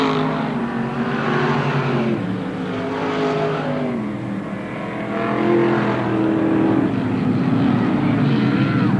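Modified stock cars racing at Merrittville Speedway in 1988, engines roaring and revving in a dense pack as they pass, rising and falling in loudness with no voices over them.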